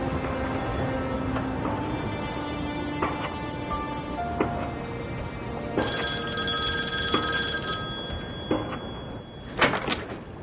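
A telephone bell rings in repeated bursts indoors, mixed with door and cupboard knocks, fairly loud and close without talk.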